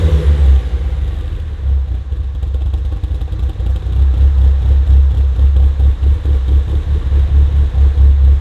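Mitsubishi EVO VIII with a Fujitsubo exhaust running nearby, a deep throbbing idle rumble with a faint clatter, fairly subdued and steady with slight swells in level.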